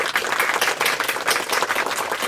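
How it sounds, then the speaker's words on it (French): A small group of friends applauds before a spicy noodle challenge, brisk close-up clapping with individual hand claps standing out in an uneven, lively rhythm, loud and alone. "on les applaudit"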